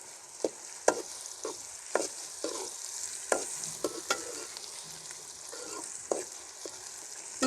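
Finely chopped onions fry in a pan with a constant hiss of sizzling oil, punctuated by sharp, close spatula taps and scrapes at irregular intervals, no voices.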